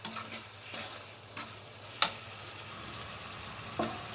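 Shrimp frying in a pan with chopped onion and spices, a steady soft sizzle broken by a few sharp clinks and scrapes as the mixture is stirred and cooked down.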